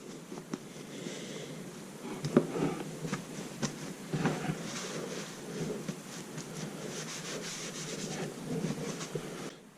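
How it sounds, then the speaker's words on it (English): Rinsed farm-raised pork chops being patted dry, giving soft, quiet rubbing and dabbing sounds with a few light taps, close up and continuous with no speech. "So I'm just going to pat them dry."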